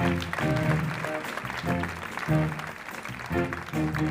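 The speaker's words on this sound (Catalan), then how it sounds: "El saxo barítono, Caterina, fort aplaudiment." Applause from an audience at a big band concert fills the clip, with the band playing sustained notes beneath and the clapping swelling in waves.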